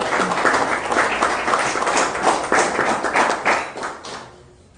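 Applause welcoming a speaker at a fraternal evening event, a dense crowd clapping steadily and loudly for several seconds before thinning out at the end.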